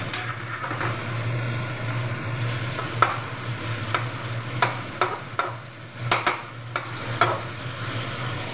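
Vegetables fry in a pan on a winter day after the water has cooked off. A steady close sizzle runs throughout, broken by repeated sharp scraping clicks of stirring at irregular intervals.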